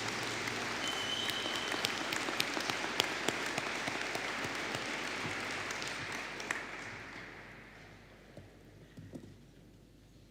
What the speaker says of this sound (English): A round of applause, please, for the graduates of the Higher Certificate in Business and Sport and Recreation.